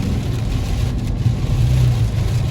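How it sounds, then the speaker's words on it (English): A car engine runs on light throttle in the rain, a steady low drone close by with a slight rise in the middle, wet road hiss layered on top. "Barely on the throttle, bro."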